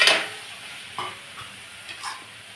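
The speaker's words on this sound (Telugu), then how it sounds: "కొంచెం ఆయిల్ పైకి కనిపించిన దాకా బాగా కలుపుకోవాలి" Andhra-style country chicken gravy stirred in a pan, a few distinct scraping strokes of a spoon over a low background sizzle, close and moderately loud.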